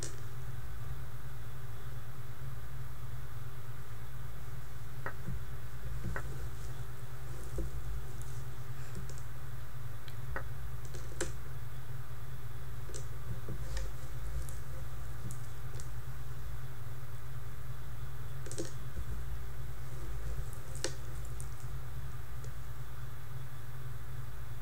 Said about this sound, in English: You can hear the clicking sound is just the charms of my bracelet hitting the wood.